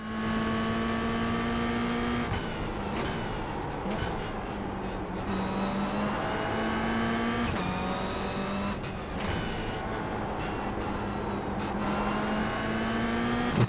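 Race cars lap a circuit, with a steady engine drone that shifts in pitch as cars accelerate, brake and pass. The engine note is constant and moderately loud throughout, with no talk.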